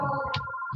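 A telephone rings during a recorded talk about a women's support course, with a steady electronic ringing tone carried throughout and a short bright chirp partway through; close and fairly loud, with no speech over it.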